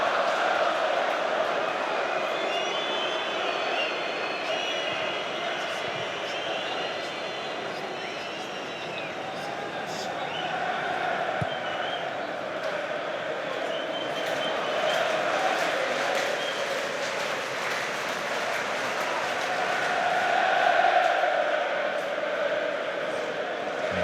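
Football stadium crowd at a Chelsea vs Servette UEFA Conference League 2024/25 match: a broad, continuous roar of voices and chanting that swells and ebbs throughout, with no single sound standing out.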